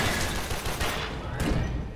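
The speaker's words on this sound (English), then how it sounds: "I don't know why none of those shots hit him." Gunfire in the sci-fi shooter Warframe, a rapid burst of shots rattling through the game mix, moderately loud and fairly dense.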